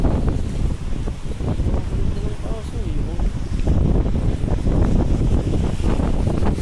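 Gusty wind buffets the microphone in a steady low rumble, with a faint voice heard briefly partway through.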